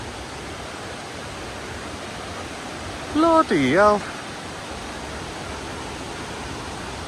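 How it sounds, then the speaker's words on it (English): Mae Ya Waterfall in Thailand pours as a steady, broadband roar that fills the whole clip, with a brief exclaiming voice heard over it midway. "I've just got my first sight of this waterfall."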